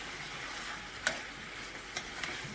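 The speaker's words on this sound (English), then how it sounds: "After 5 minutes, my curry chicken frying," Curry chicken fries in a pan with a steady close sizzle, broken by a few sharp clicks and scrapes of a utensil stirring it, with no one talking.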